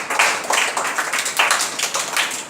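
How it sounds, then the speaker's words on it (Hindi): A class of students claps together during a percentage math lesson, producing a dense, rhythmic patter of hand claps that swells in regular pulses, close and fairly loud. "चले इसके लिए जोरदार ताली बजाइए तो आप लोग"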